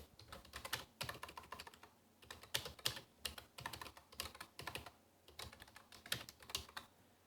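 Someone types on a computer keyboard while writing HTML content for an Apache virtual host on Ubuntu, producing bursts of quick, close key clicks with short pauses between them.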